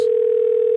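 A telephone dial tone sounds as a steady, unbroken electronic hum, loud and close, starting abruptly with no voices over it.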